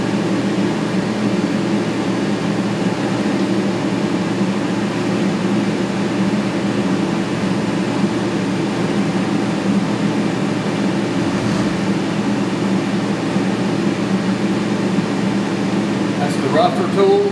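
A CNC machine running at double speed with a roughing tool cuts a recoil lug, giving a loud, steady mechanical drone with a constant hum throughout and a few faint clicks near the end.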